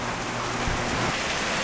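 Heavy rain is driven by strong wind onto a porch, a dense, unbroken wash of spattering water that holds a steady level throughout.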